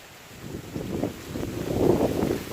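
Wind blows across a rice field at harvest time in the Philippines, a low, rumbling gust that swells and buffets the microphone, growing stronger toward the end.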